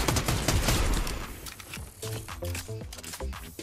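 A rapid volley of gunfire in Fortnite, dense and loud for the first second and a half, then fading into scattered shots and in-game sounds.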